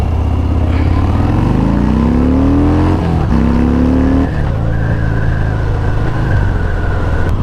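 Harley-Davidson Fat Bob motorcycle on a test ride, its engine loud and close, revving with rising harmonic sweeps through downshifts and gear changes, a steady throaty rumble underneath throughout with no talking.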